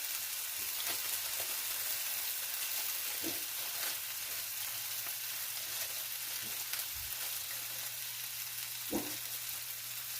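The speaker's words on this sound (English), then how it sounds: "I'm gonna fry up a whole onion, chopped, or julienne style" Chopped whole onion fries in a pan with a steady, soft sizzle that runs throughout, broken by a few faint clicks of stirring.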